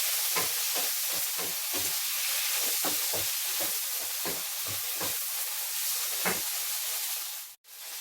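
Tomato dropped into a pan of sautéing bottle gourd and sardines, giving a steady loud sizzle with repeated scraping stirs throughout.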